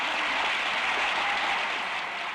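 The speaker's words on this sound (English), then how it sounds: "Let's have a nice round of applause for the husband of 16 children" A studio audience applauds as a contestant's husband is called up on stage, a dense, even wash of clapping that stays steady and fairly soft throughout without any voices over it.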